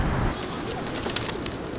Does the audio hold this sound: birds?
yes